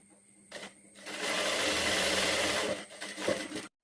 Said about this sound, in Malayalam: നമുക്ക് ബാക്ക് സ്റ്റിച്ച് ചെയ്തെടുക്കാം.